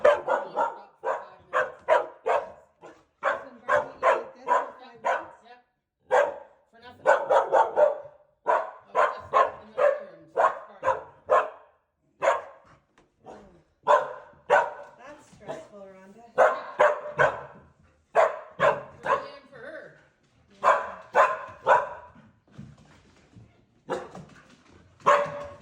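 A 9-month-old Bernedoodle barks repeatedly in short bursts, with some yips mixed in, close by, over about twenty-five seconds.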